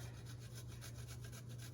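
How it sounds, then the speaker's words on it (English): Lettuce is rubbed against a hand grater in a home kitchen, giving a quick series of rhythmic scraping strokes, faint and close, with no talking. "So I'm just gonna take the grater that I do have."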